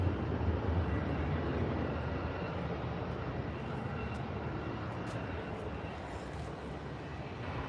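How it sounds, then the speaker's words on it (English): A TUI Boeing 737 airliner approaching the runway at Manchester Airport makes a steady, broad engine roar that holds at an even level throughout, heard from a distance with no talking. "So we've got a TUI approaching the runway as well. Looks like a 737, that."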